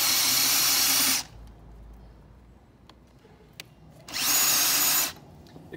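A FAMAG auger bit bores into wood under a power drill, two loud sustained whirring bursts of about a second each separated by a quieter gap of faint handling noises.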